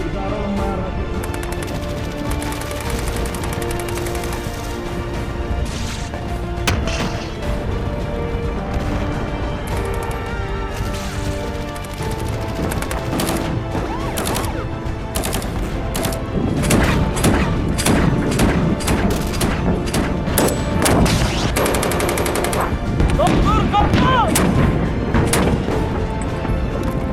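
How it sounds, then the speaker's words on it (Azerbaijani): Army artillery and heavy weapons fire during an Azerbaijan-Turkey joint tactical military exercise: a long stretch of repeated booms, thuds and crackling blasts at varying distances, growing denser and louder toward the end, with no voices. "ordu artilleriyası düşmənin hərbi obyektlərinə, yüksək dəqiqlikli silah sistemlərinə, artilleriya və idarəetmə məntəqələrinə zərbələr endirir"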